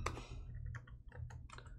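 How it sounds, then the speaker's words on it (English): Rapid clicks from a computer keyboard come in short uneven bursts, close and fairly quiet, with no talking. "I can type"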